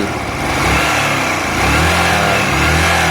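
Engine of a Honda Varadero 125 motorcycle being revved, a steady mid-pitched drone that rises and holds through the throttle blips, close and loud with no voices over it.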